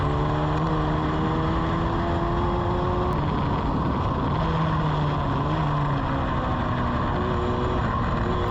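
A Formula Ford race car, heard in a sim, drones continuously through corners, its engine pitch wavering steadily as it brakes and accelerates, loud and unbroken throughout.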